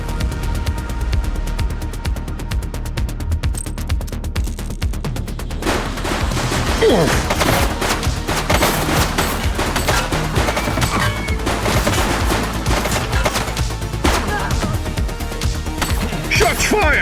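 Dense, continuous gunfire from the video game The Precinct, rapid overlapping shots and bursts at close range that stay loud and unbroken throughout.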